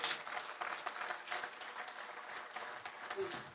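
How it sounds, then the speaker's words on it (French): An audience applauds a man at a speech in Montreuil, fairly faint and uneven clapping with some voices mixed in, swelling a little at the start and end. "Ah, Hervé, s'il vous plaît, applaudissez pour ce grand monsieur."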